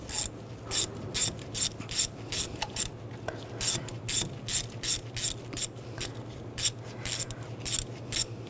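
A ratchet runs in knock sensor bolts on a 2004-2009 Audi A4 Quattro 2.0L four-cylinder, with steady, close, rhythmic clicking strokes over low background hum.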